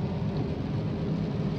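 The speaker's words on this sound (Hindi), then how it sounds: "अच्छे से आ रहा है बारिश" Heavy rain pelts a car driving on the NH 44 highway from Bangalore to Hyderabad, a dense continuous roar of drops and road noise that stays loud and even throughout.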